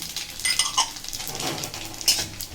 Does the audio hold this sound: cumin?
yes